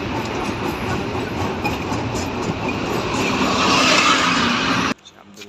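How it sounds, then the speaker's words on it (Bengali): The Drutojan Express, running from Dhaka to Parbatipur in Bangladesh, heard from onboard as it moves slowly: a steady, loud rolling rumble and rattle that swells, then cuts off abruptly near the end. "ট্রেনটা খুবই স্লো যাচ্ছে এখানে।"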